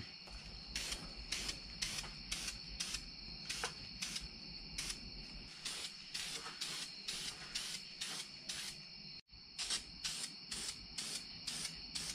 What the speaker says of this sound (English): I'm actually just gonna paint it right now because I want it to be dry tomorrow.